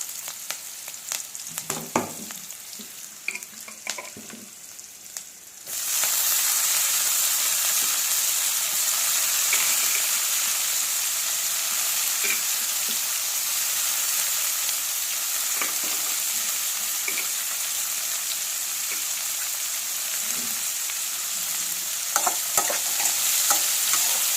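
A loud, steady sizzle of eggplant pieces frying in a pan starts abruptly after a few seconds of quieter kitchen noise and continues without pause.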